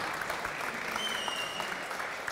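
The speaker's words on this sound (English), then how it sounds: "Please welcome him with a huge round of applause." Conference audience applauds to welcome a speaker onto the stage, sustained even clapping from a crowd, fairly soft and continuous with no talk.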